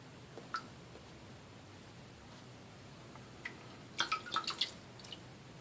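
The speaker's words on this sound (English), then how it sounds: "I'm going to just put a little bit of water on the tips." Water droplets falling onto the tips of a Simpson Chubby 2 synthetic shaving brush, a few faint scattered drips followed by a quick cluster of soft ticking drops, close but quiet over a low background hiss.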